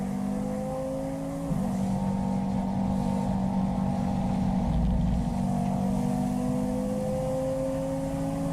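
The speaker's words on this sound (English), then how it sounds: "was so good to see the onboard of the Karen Racing KTM Crossbow" Onboard engine of the Karin Racing KTM X-Bow race car during a three-hour GT endurance race at Slovakia Ring, a strong buzzing engine note with a quick gear change early on, then a steady, slowly rising pitch.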